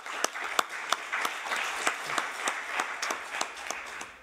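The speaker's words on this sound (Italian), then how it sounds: "non so se avete fatto l'applauso" A conference audience at an electric public transport event claps after a talk, a light, scattered round of applause with a few sharper individual claps standing out at a steady pace.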